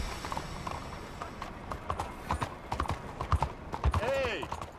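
Steady clip-clop of horse hooves at a gallop in the video game Red Dead Redemption 2, with a horse whinnying near the end and a voice speaking over it.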